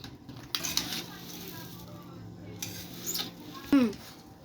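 Puffed rice being stirred in a pan with a spice mix of ginger paste, salt and chili powder. Soft scraping and rustling comes in a few slow passes over a low background, with a brief voice near the end.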